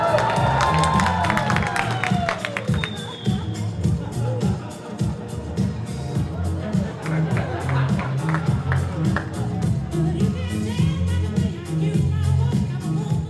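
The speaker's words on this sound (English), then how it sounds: "and Jason Pulowski of the Elgin Area Chamber brought back disco on this night to the crowd's delight." A large crowd cheers, whistles and applauds at a disco dance performance in Elgin, with sustained clapping, shouts and babble throughout, loud and close.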